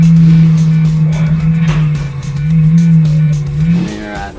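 Scion FR-S race car driving flat out on a mountain hillclimb, its engine droning loud and steady close to the microphone with a brief dip before climbing again, wind and road rumble underneath.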